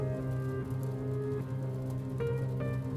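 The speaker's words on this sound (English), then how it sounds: "On Thursday afternoon, it started to rain again." Steady rain falls on a Thursday afternoon ahead of a thunderstorm, a continuous patter laid under sustained musical tones, with no voices.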